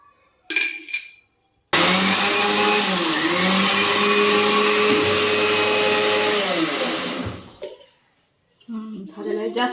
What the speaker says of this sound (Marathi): कोबऱ्याचा किस आहे हे थोडा मोठा आहे ह्याला थोडं मिक्सरमधनं बारीक करावं लागतं